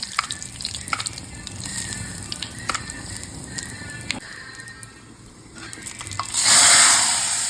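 Green chillies, curry leaves and asafoetida sizzle in hot oil, a steady crackle with light scraping taps. Near the end the frying flares into a loud, hissing burst.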